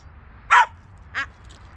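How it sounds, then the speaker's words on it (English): A dog gives two sharp, separate barks close by, then a faint third yip, each short and loud against a quiet room while it waits for a treat. "she's barking right now because she wants a treat"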